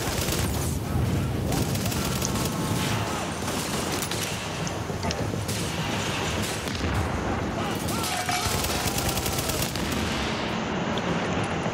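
Sustained gunfire in The Division's Russian Consulate mission during online co-op play: dense bursts of automatic fire and booming shots, loud and continuous, with players talking over the shooting.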